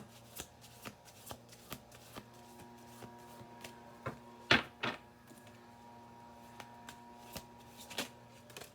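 Tarot cards are shuffled and laid on a table in a quiet room, a steady run of soft riffles and light taps with one sharper slap partway through, close and without talk.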